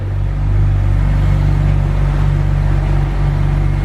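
Lowered BMW E90 being pulled out, a steady loud low engine rumble at idle with a constant droning hum and no talking.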